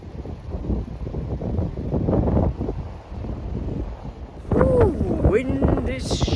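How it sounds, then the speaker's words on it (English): Strong wind buffeting at an Edinburgh city viewpoint, rough gusty rumble that swells and dips, with a person talking briefly over it. "Ooh, wind is sure picking up."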